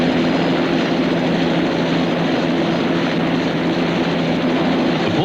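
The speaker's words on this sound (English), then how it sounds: "Port Hedland Port Authority was one of the first in Australia to use helicopters to carry the harbour pilot to or from the ships." Helicopter carrying a harbour pilot away from a ship at Port Hedland, a loud, steady droning rotor and engine hum held evenly throughout.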